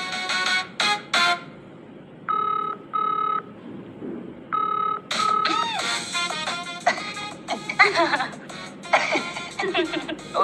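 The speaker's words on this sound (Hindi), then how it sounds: "अभी रोहन भाई को फोन मिलाते हैं और सब क्लियर हो जाएगा।" A telephone being dialed, with several short bursts of keypad tones in a quick sequence, followed by voices talking and chattering indoors.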